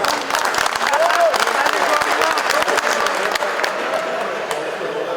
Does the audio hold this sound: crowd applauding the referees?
yes